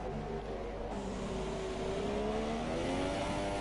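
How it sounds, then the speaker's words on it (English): Formula 3 race cars in a sim racing game at Abu Dhabi running on track in dry conditions, a steady engine drone with rising and falling whine as cars pass, alone without voices. "Our first cars out on track"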